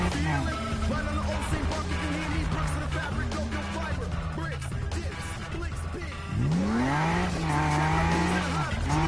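Race car engines roar in a PS4 racing video game, a steady drone that surges into a rising rev with tire squeal partway through, continuous and loud throughout.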